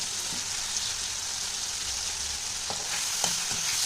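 Onion and ground spices such as coriander, cumin, turmeric and chili powder sizzle steadily in a hot pan, a continuous frying hiss with a few soft stirring clicks near the end, no talking.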